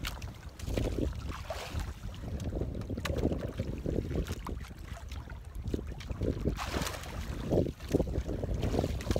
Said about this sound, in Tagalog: Medyo malalaki-laki yung alon. Yung alon niya ano, dala na lang ng hangin yan.